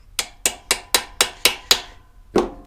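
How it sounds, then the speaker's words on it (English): A hammer strikes a turbo socket down onto a broken fastener: seven sharp, evenly spaced metallic blows in quick succession, then a pause and one final heavier hit, close and clear with no talk. "you hammer it down on"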